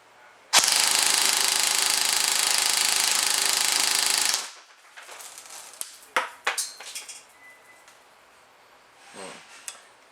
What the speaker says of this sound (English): That noise that you just heard after I stopped firing was a bunch of BBs hitting the ground